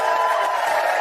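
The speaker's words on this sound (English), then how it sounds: "Give her a round of applause." A studio audience at a British daytime talk show cheers and applauds in a dense, steady roar, loud and close, with no gaps over about a second.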